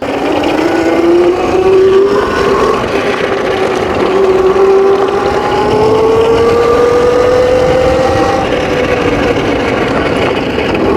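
A Qwayq EM40 electric dirt bike riding off-road over gravel on a farm, with a continuous loud motor whine that rises and falls in pitch over crunching, rushing ground and wind noise.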